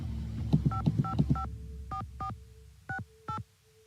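Touch-tone telephone keypad tones dialing a number in the Nancy Drew mystery game Secret of the Scarlet Hand, a quick run of about six short beeps followed by a few slower, spaced presses, clear and alone.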